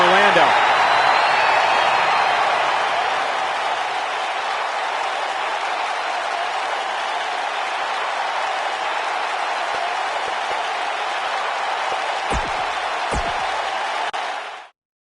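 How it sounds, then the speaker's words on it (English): A large arena crowd in the wrestling video game WWE 2K19 roars and applauds in a steady, broad wash of noise that holds for most of the stretch before cutting off abruptly. "We've got an animated crowd here tonight, as we usually do when we're in Orlando."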